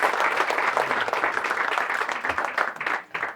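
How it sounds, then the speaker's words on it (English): Audience applause at a soccer club's uniform and gear unveiling, a dense, steady spell of clapping that fades out near the end. "that is deserving of a round of applause"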